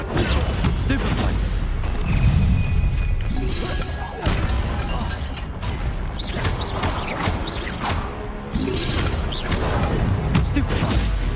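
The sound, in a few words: Stupefy spell cast in video game Hogwarts Legacy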